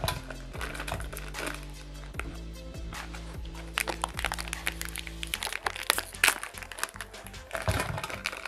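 Oreo biscuits dropped into a jar make a string of close clicks and knocks: hard, irregular taps with short ringing tones, followed by busier crunchy clatter.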